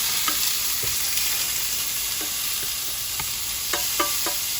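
Shrimp and butternut squash cooking together in one pan, a constant bright sizzle with scattered spatula clicks and scrapes, close and fairly loud.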